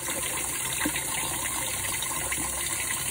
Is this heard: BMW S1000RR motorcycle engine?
no